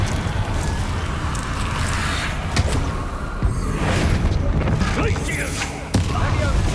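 Blasting-spell explosions in a Hogwarts Legacy battle, bursts and whooshes repeating amid constant combat noise, with a voice shouting over them.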